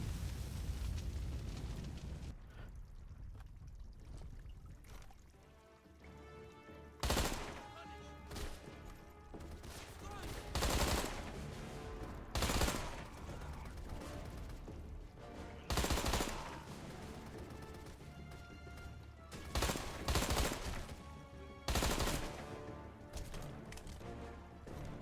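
Gunfire erupts in the video game Deadfall Adventures as repeated loud, sharp shots and bursts at irregular intervals over a rumbling low background.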